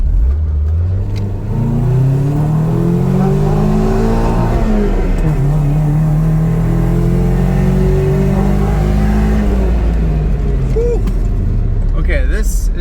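Nissan 240SX with a KA engine revving hard and climbing toward redline on a short straightaway, the engine note rising steadily, dipping briefly, then rising again, loud and continuous with a voice talking over it.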